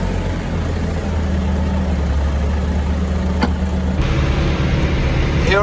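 A tractor engine runs loud and steady from inside the cab while hauling a load of manure, a constant low rumble with no voices.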